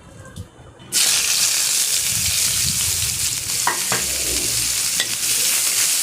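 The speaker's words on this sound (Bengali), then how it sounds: "একটু পেঁয়াজ ভাজবো।" Onions frying in a pan, a loud, close sizzle that bursts in after a brief quieter moment and continues steadily, with occasional clinks of stirring.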